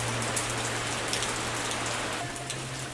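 Steady rain falls on a surface outdoors near a house, a dense continuous hiss with a low hum underneath, fairly loud and even throughout with no talking.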